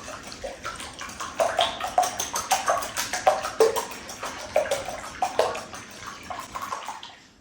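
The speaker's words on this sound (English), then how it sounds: "So we will whisk up our eggs here." Eggs whisked briskly in a bowl for a chicken pudding, giving a steady run of quick, bright clinking and splashing strokes with a rhythmic pulse, close and fairly loud, with no talking.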